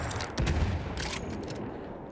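Gunfire from the video game Battlefield 1, a dense burst of shots that cracks out and then fades into a rumbling, echoing tail, with no talk over it.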